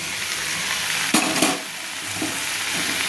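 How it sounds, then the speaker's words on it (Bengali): Cabbage is stirred and fried in a pan over a loud, constant sizzle, with a couple of brief spatula scrapes near the middle and no voices. "বাদবাকি যে কপিগুলো ঝুড়িতে ছিল সেগুলো আমি ঢেলে দিলাম, দিয়ে আমি আস্তে আস্তে করে নেড়ে নেব।"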